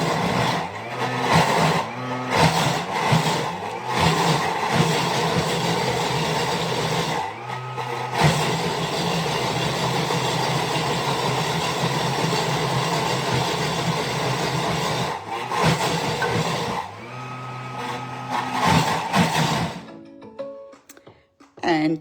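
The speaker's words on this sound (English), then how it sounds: "And this is now going to build up and blend." A kitchen blender whirs continuously on a tandoori paste, loud and close, with brief dips and restarts as the motor builds up before it cuts out near the end.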